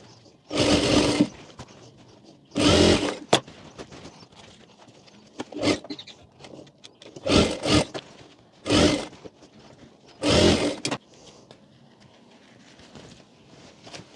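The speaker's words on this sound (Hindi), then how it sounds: "तो इसको पहले सीधी तरफ इस तरह से सिलाई कर लेंगे।" Sewing machine stitching a girl's anarkali kurti: several bursts of steady mechanical whirring stitching, each lasting about a second, separated by pauses with faint fabric handling and clicks, close and clear with no talk.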